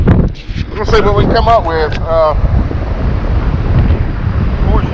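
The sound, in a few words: wind at the beach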